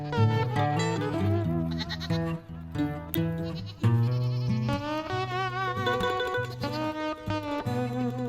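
Several farm goats bleat loudly and close by in overlapping, wavering cries, nearly continuous across the whole stretch with no talking.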